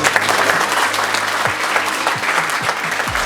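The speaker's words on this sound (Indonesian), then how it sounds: "Tepuk tangan buat Tuhan dan saya." Church congregation clapping during an evangelist's sermon, a steady dense wash of applause from a sizable crowd, loud and continuous for a few seconds.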